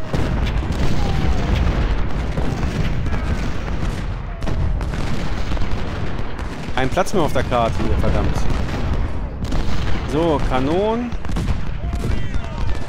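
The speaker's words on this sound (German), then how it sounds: "Kanonen. Ihr dürft auf irgendwas schießen." Civil War cannons firing in Ultimate General: Civil War, a dense rumbling barrage of booms under steady battle noise, with someone talking in German over it.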